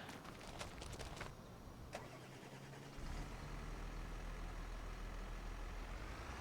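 Ford tractor engine in the video game Farming Simulator 25, a steady low diesel rumble that jumps louder partway through as the engine revs up, with a few faint clicks early on.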